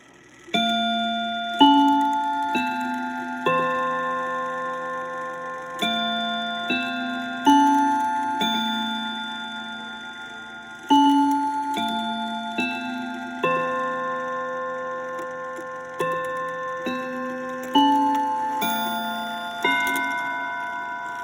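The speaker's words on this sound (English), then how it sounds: "Next is a mahogany Waterbury Westminster Chime double-decker triple plate mantle clock." A mahogany Waterbury Westminster Chime double-decker triple-plate mantel clock rings out its chime melody, clear bell-like strikes sounding one by one in a steady sequence with long ringing decay, alone and close.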